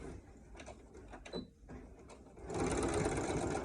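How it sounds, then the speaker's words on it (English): A sewing machine stitches fabric pieces together for a face mask. Quiet handling noises come first, then the motor starts up in a fast, steady, close whirring run. "you're just gonna sew this together"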